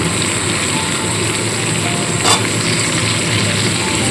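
Cauliflower, eggplant and radish pieces hitting a hot frying pan, a continuous loud sizzle with a brief sharper burst partway through as more vegetables go in.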